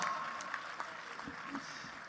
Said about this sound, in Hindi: जोरदार तालियां संपत सरक ले, वाह